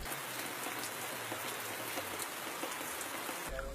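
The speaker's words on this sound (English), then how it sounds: "the thatch roof only strains the heavy downpour that confines the pupils" Heavy downpour strains through the thatch roof of an outdoor school classroom, a steady dense hiss of rain that continues throughout with no voices.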